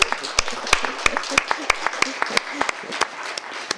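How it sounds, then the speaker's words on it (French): A crowd claps, with sharp individual claps standing out in an uneven rhythm and a murmur of voices underneath. "oui, Shirley, applaudissez-le."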